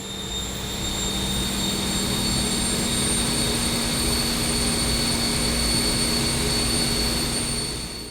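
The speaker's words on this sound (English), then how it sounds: "As the heat energy from hot, clean air enters the air turbine, the turbine is allowed to engage." An air turbine engages inside a poultry litter gasifier, a loud, steady mechanical roar with a sustained high whine and low hum, unbroken for the whole span without voices.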